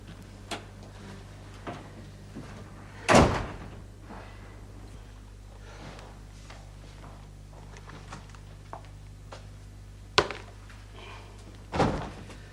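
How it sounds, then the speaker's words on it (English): A door in an indoor scene thuds shut with a heavy knock, followed later by a sharp click and another solid thump, all close against quiet room tone with no talking. "You'd better lock the door after me."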